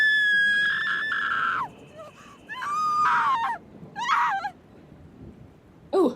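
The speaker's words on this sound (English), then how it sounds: "Someone screaming." Shrill, high-pitched human screams ring out in several separate bursts, some long and wavering, others short, loud and close with brief silences between them.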